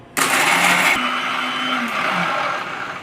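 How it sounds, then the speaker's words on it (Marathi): A kitchen mixer grinder whirs loudly as it blends biscuits into crumbs for an Oreo cake, a steady motor roar with a brief dip in pitch partway through, continuing alone without talk. "हे बिस्किट मिक्सरमध्ये टाकायचं आपल्याला,"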